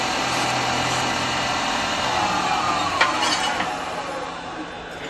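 A wood lathe spins a turned piece from a rotten tree branch while it is burnished, a steady high motor whine and rubbing hum running close and loud, easing slightly near the end.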